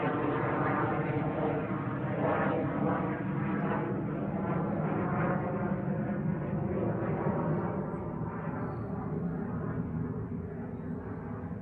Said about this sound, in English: one of those military airplanes is whipping fast